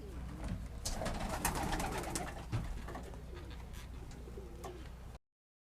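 Old English saddle muff tumbler pigeons coo softly and repeatedly inside a loft, with rustling and faint background noise before an abrupt cutoff.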